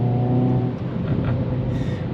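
A 2021 Hyundai Veloster N engine held steady around 4,000 RPM, giving a loud, continuous droning hum with a slight rise in pitch near the end, close by and without speech.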